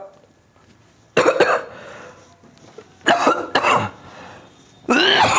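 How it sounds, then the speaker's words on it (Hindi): Several separate coughs ring out close to the microphone, sharp and harsh, separated by quiet gaps. "अरे खांसी आ जाती है"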